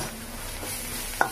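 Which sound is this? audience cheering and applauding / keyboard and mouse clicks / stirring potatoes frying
stirring potatoes frying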